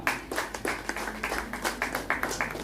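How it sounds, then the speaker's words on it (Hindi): Scattered clapping from a small audience at a stage play in Patna, a few individual hand claps repeating unevenly, quiet and short, heard alone without voices. "जोरदार तालियां बजनी चाहिए।"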